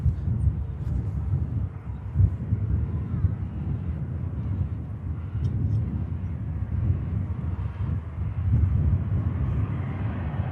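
An EgyptAir Airbus A321neo jet in from Cairo at Manchester Airport makes a broad, low engine rumble that swells and fades at a distance, with wind noise and no clear talking.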